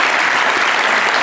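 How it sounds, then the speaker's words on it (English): Dense, loud audience applause at a 2019 business leaders summit fills the whole moment, a steady wash of many hands clapping close by with no voices. "I think a big round of applause for John Christodoulou."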